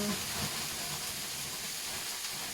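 A hot pan for bolognese gives off a steady, broad hiss of sizzling oil and food, continuous and fairly close throughout.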